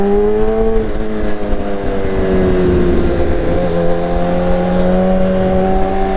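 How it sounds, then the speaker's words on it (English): A BMW S1000RR motorcycle engine revs loud and close, a sustained howling roar with pitch that dips and climbs through the whole stretch, heard alone without talk. "This bike is seriously loud"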